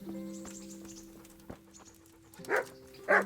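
A dog in the video game Kingdom Come: Deliverance gives two short barks near the end, preceded by soft panting and faint tapping over a steady background hum.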